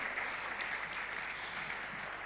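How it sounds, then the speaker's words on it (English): An audience at a data science summit in Ghana claps steadily and continuously, a dense, even wash of applause at a moderate distance with no speech over it. "Please keep clapping till"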